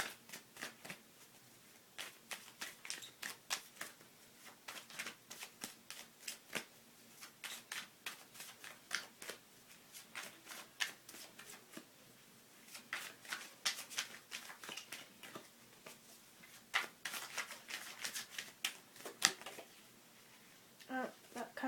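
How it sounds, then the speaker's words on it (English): Oracle cards shuffled by hand in a steady run of crisp, papery riffles and slides, fairly close and moderately loud, pausing briefly now and then. "I'm gonna pull out like an oracle type of card for you."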